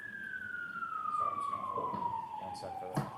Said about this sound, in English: One sec for that siren.